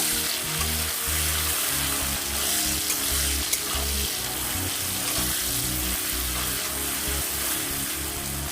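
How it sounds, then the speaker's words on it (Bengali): Onions frying in a pan with salt, a steady close sizzle and crackle running throughout with soft irregular pops and no voices. "পেঁয়াজটাকে একটু ভেজে নেব"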